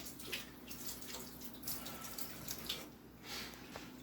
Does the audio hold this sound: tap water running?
yes